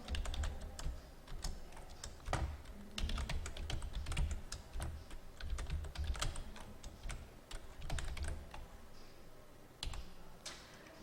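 Computer keyboard typing while entering data into an Excel spreadsheet, with rapid, irregular key clicks in close, steady bursts throughout and no talking.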